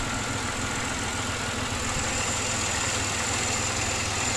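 A Pontiac Grand Prix engine idles steadily after misfiring was fixed by fitting new MSE ignition coils, a close, even, continuous rumble with no talk over it.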